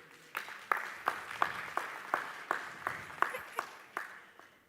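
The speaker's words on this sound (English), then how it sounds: "a round of applause for her" A welcome round of applause greets a woman moderator walking onto the stage at a Nairobi tech week session on sustainability. Steady crowd clapping runs throughout, with sharper individual claps punctuating a dense, moderately loud wash of hands.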